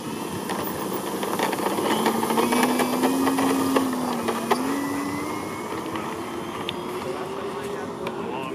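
Model jet aircraft engine on takeoff, a steady whining tone that rises and bends in pitch over constant broadband roar, heard at moderate distance outdoors with voices nearby.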